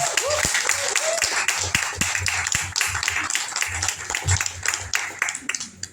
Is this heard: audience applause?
yes